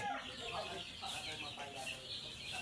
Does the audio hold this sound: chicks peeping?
yes